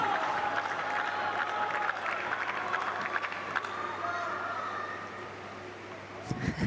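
Tennis crowd at the Billie Jean King Cup Finals applauding and cheering loudly, a dense sustained roar of clapping and voices across the arena that fades slightly toward the end, with commentators talking over it.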